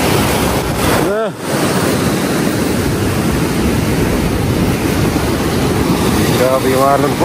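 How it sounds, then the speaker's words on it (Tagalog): Steady roaring surf from strong typhoon waves washes continuously, loud and close, with a voice briefly heard over the churning water. "Grabe yung alon po."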